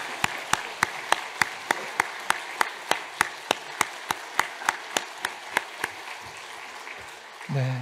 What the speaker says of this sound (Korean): 하나님 앞에 우리 같이 한번 감사와 또 격려의 박수